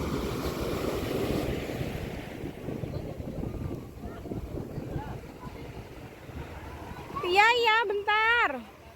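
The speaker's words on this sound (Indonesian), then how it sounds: "Ombaknya di sini lumayan kenceng loh teman-teman dari tadi." Ocean waves wash steadily onto the beach at Padang as a broad, continuous surf roar with wind noise. Near the end a voice talks briefly over it.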